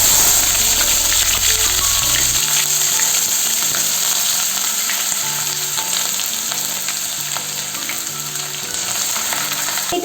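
Boiled beans and carrot sizzling in oil in a wok (kadai), a steady loud crackling fry throughout, with soft background music underneath.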